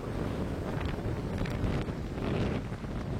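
Storm Benjamin hits a park in Isère with strong, roaring wind gusts buffeting the microphone, a continuous heavy rumble that swells and dips with no voices.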